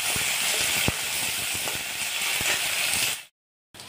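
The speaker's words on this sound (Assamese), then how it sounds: "তেলত দি আছোঁ এটা পিঁয়াজ পেষ্ট কৰি। আৰু পিঁয়াজখিনি অলপ টাইম ভাজি ল'ম।" Onion paste frying in mustard oil in a wok, a steady close hiss and sizzle with a few faint utensil taps, ending in a brief silence.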